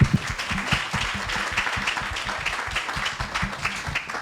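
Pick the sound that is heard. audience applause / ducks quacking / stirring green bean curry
audience applause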